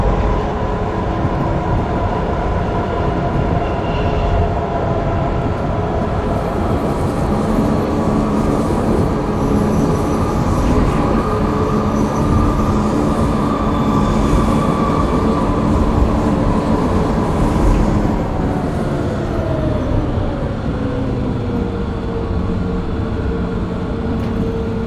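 A tram runs steadily in Frankfurt Tram Simulator, a loud continuous rolling rumble with a motor whine that slowly falls in pitch near the end, with no talk.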